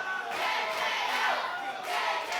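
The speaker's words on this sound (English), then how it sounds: "right now the crowd is really getting behind JKO, Joeykid Owens." Crowd at a televised pro wrestling event roaring and cheering in a steady, loud swell for JKO (Joeykid Owens), with brief surges of shouting throughout.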